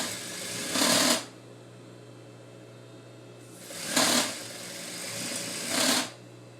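A sewing machine stitches a narrow hem on a fabric headpiece in three short whirring runs, the first alone and the last two close together, each starting and stopping cleanly.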